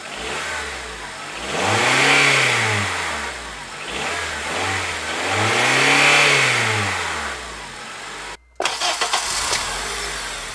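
A 2004 Honda Element fitted with an HPS performance intake revs twice in long, loud, rising-and-falling swells, then cuts abruptly and settles into a rougher steady engine note.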